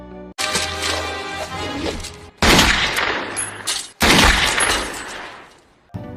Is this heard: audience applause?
no